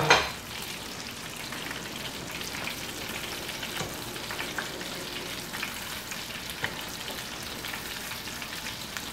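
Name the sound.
onion rings deep frying in a small pot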